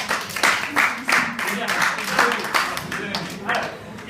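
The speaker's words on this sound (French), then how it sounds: "On l'applaudit." An audience claps at an eloquence and debating training session: a dense, steady patter of hands lasting a few seconds, mixed with voices talking over it.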